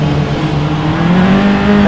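Formula 4 single-seater race car roaring past at speed during a club qualifying race, loud sustained engine note rising in pitch as it passes close, with no talk over it.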